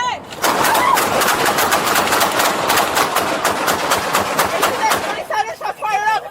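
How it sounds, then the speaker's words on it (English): Rapid, loud gunfire cracks in a dense continuous string outdoors during a police traffic stop, with voices breaking through near the end. "Shots fired up."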